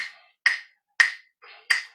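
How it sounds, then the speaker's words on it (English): Sharp wooden clicks of a clave tapping out a rhythm for the Ghanaian children's song "Tue Tue", four crisp, close strikes spaced unevenly about half a second apart with silence between them. "I have my clave that I want to tap this"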